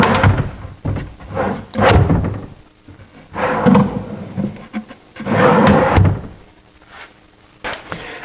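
A cabinet drawer being fitted and worked in a woodshop, sliding along its guides and closing with repeated thumps and scrapes in several loud bursts, with quieter gaps between them.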